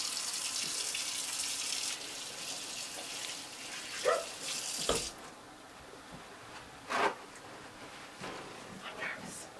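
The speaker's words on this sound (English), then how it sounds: "Washing the hands. Very important." Hands being washed under a running tap, a steady hiss of water at first, then splashing and rubbing surges as the flow eases, with brief speech in between.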